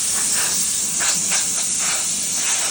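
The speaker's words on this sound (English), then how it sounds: "we use a blower to get all the residue off" Air blower blowing residue off during cutting, cleaning and resealing work on a 2016 Open Range RV, a loud steady rushing hiss of air with slight pulsing.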